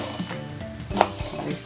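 A knife slices a jalapeno finely on a cutting board, giving a few soft, irregular taps with one sharper knock in the middle, all fairly quiet.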